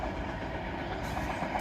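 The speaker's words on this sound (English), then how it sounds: "our first freight train of the afternoon is going to be worked by a Freightliner Class 66 hauling a intermodal train" A Freightliner Class 66 diesel locomotive hauling an intermodal train of empty container flats, with a flat wheel on the loco, rumbles past close by in a steady, loud roar of wagons and rail noise.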